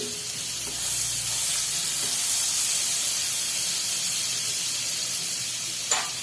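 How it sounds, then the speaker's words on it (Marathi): Butter sizzles and hisses as it melts in a hot pot on a gas stove: a steady, bright crackling fry that swells after a second and holds, with a brief clatter near the end. "आता दीड टेबलस्पून बटर टाकून घ्यायचं आहे"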